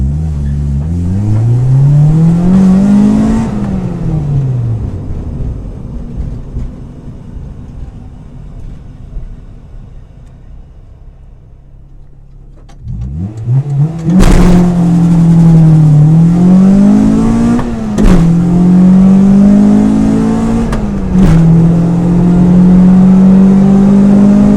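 Honda Integra Type R DC2 launching hard, engine revving up through gears with rising and falling pitch, a pause at idle, then another strong run with quick shifts, loud and close.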